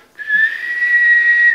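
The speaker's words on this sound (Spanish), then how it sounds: "Y silbos largos." One long, steady human whistle from a whistled language holds a clear high pitch for over a second, loud and close, sounding alone with nothing else around it.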